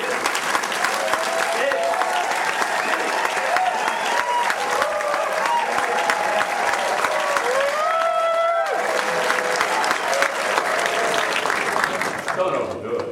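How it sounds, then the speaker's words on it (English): Audience applause at an evening art awards event honoring the Santa Cruz County Artist of the Year, with steady dense clapping, some cheering and crowd voices mixed through, loud and sustained throughout. "give yourselves a big round of applause for being here tonight"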